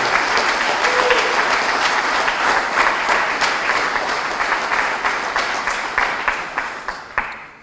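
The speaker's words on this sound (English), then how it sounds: "Let's have another round of applause for all the country." Sustained applause from a crowd, dense clapping that gradually thins toward the end with a few louder individual claps.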